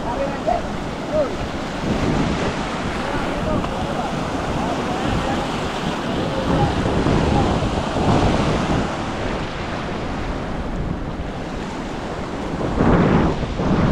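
Heavy sea surf and strong current churn during a storm while fishermen haul a net from a boat, a dense continuous roar with wind buffeting the microphone, rising in surges near the end.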